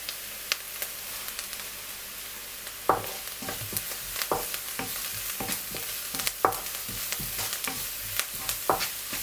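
Onions sautéing in a pan while being stirred, a soft sizzle beneath repeated spatula scrapes and taps that come in irregular bursts, close and fairly quiet, with no talk.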